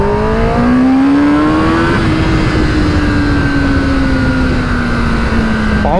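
A 2021 Kawasaki ZX10R on a stock map with no aftermarket exhaust is pulled hard: a loud, close engine note climbs steeply in pitch, shifts once, then keeps rising in a steady high scream.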